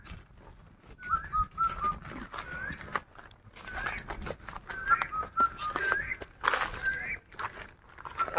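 Birds call and whistle in a rocky lychee orchard in Chhatak, Mullapara, with short chirps and whistled notes scattered over shuffling footsteps and outdoor rustle, moderately close and fairly faint.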